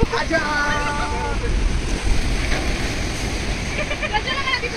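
Sea waves wash against a breakwater in a continuous loud roar of surf with heavy wind buffeting, while people talk and shout over it nearby.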